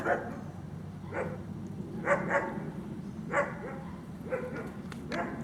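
A dog gives several short barks and yips at intervals, fairly close, with some background noise between them.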